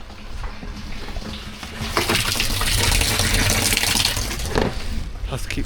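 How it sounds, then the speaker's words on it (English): Water gushes steadily into the buffer tank of a pressure washer on a low-pressure supply during driveway cleaning, a continuous loud rushing fill that swells midway, with brief voices faintly underneath. "Plus keep stopping for the water to fill up."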